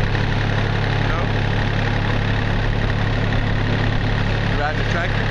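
A blue tractor idles nearby with a loud, steady low rumble throughout, while a child and an adult talk over it outdoors.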